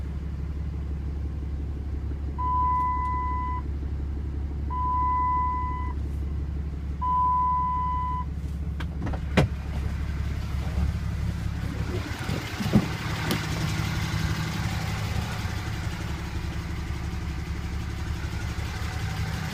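A 2007 Dodge Ram turbo diesel truck idles with a steady, low rumbling drone, close and constant, while three short electronic chimes sound early on and a few faint clicks follow.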